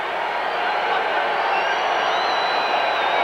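Stadium crowd at a 2000 Denver Broncos football game, a loud, dense, continuous roar of many voices that rises slightly and holds steady, with scattered whoops on top.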